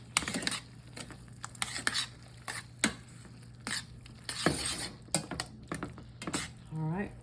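Oyster mushrooms being stirred around in a pan, with intermittent utensil scrapes and clinks against the pan over a steady low hum, sounding close and fairly quiet, with a faint sizzle between the strokes.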